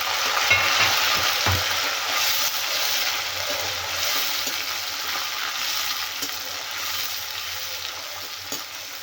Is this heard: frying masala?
yes